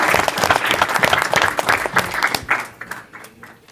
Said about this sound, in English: We can have a round of applause for Baron Vanderbilt.